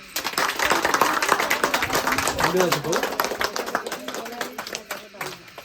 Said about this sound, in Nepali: हामी जोरदार ताली बजाउनु